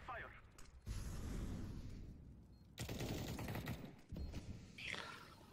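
Gunfire in a video game crackles in several bursts of rapid shots separated by brief lulls, with people talking faintly underneath.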